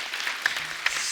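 Applause from a television comedy show's studio audience, moderately loud and continuous for about a second, with a few sharper claps standing out.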